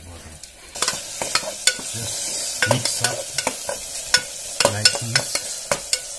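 A spoon scrapes and stirs ground coriander and cumin (jeera) powder in a pan while cooking potato sabzi for puri, giving repeated sharp clinks and scrapes over a steady soft sizzle, with a brief murmur of speech.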